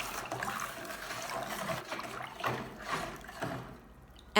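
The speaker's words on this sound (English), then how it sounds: "Stir until dissolved." Soft swishing and sloshing as baking soda and salt are stirred into water in a bowl, a few quiet liquid swirls rising and falling before trailing off near the end.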